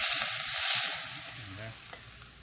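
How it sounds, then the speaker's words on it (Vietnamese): Hot cooking oil poured over Hainanese chicken rice ingredients, giving a loud, steady sizzle at close range that fades gradually over a couple of seconds, with one small clink near the end and no talking. "Ok, dầu nó sôi rồi nè, mình chế vô ha. Thấy không, thấy cái tiếng nó xè xè"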